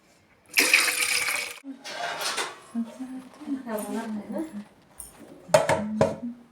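Water pours in a gushing burst into the bottom of a metal steamer pot, followed by clinks of cookware, with people talking in between.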